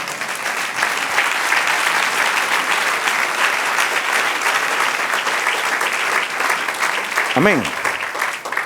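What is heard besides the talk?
congregation applauding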